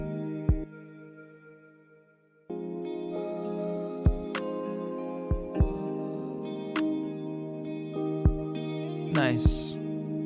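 Instrument tones, apparently guitar, are played through an amp with return reverb. Sustained chords ring out with echoing tails, and sharp plucked accents cut in at irregular points over a steady hum.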